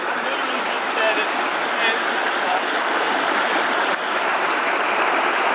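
A steady, dense rush of a waterfall and mountain stream in a remote brook trout canyon, loud and unbroken throughout.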